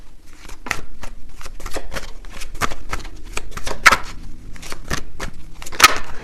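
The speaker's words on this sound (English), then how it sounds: "One more card for what they want here with you, and then I'll get a few message cards." Tarot cards shuffled by hand in a steady run of crisp riffling bursts, close and moderately loud, with a couple of sharper snaps and no talk over them.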